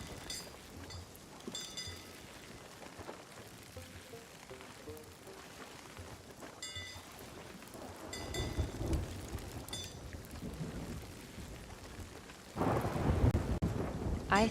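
Stormy weather in the pirate video game Sea of Thieves: steady rain hissing throughout, with rumbles of thunder building midway and a loud, close thunderclap near the end, heard alone without voices.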